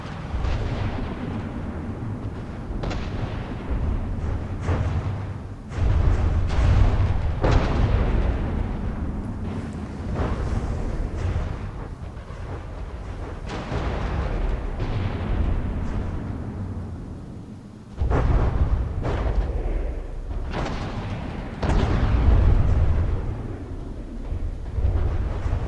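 A warship's front ammunition stowage detonates in a naval video game, setting off a long chain of heavy, booming blasts and rumbling eruptions. The explosions come in repeated waves with sharp surges, loud and close.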